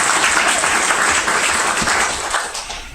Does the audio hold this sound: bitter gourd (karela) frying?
no